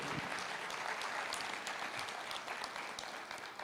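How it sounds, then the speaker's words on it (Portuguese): Church congregation applauding during a sermon, a steady, fairly soft wash of many hands clapping that holds evenly throughout with no voices standing out. "Glória a Deus, pode aplaudir."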